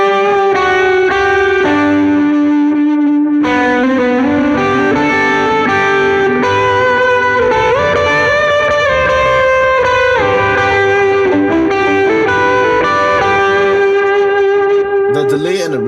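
Electric guitar lead pushed through a Timmy overdrive pedal into an amp plugin, with delay and reverb, sustaining loud and crunchy notes continuously with echoing trails and no talking.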